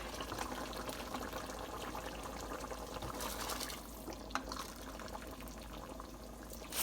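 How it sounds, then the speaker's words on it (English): Six cups of pre-boiled water pour steadily into a cooking pot for pilau, a soft continuous splashing and trickling that stays fairly quiet throughout. "I'm going ahead to add 6 cups of water."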